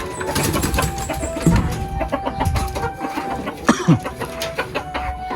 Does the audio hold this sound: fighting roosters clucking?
yes